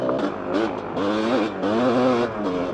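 Husqvarna motorcycle with an FMF exhaust revs repeatedly, sharp rising and falling engine whines in several close bursts, loud and unaccompanied by speech.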